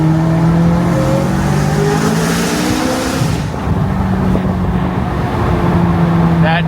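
McLaren sports car accelerating hard across a bridge, a loud continuous engine roar climbing through gears with shifts, heard from inside the cabin over road noise.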